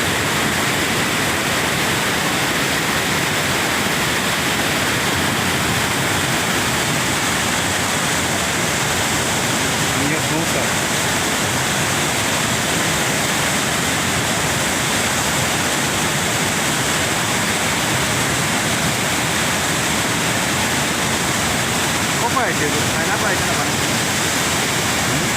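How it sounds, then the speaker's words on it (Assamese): Rushing river water at Parshuram Kund in Arunachal Pradesh, a steady broadband roar of waves and current that runs without pause, with faint voices barely rising above the constant wash. "পানীৰ ঢৌ চাওক আপোনালোকে"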